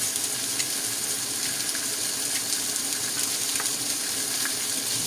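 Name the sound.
ginger garlic paste sizzling in pan with onions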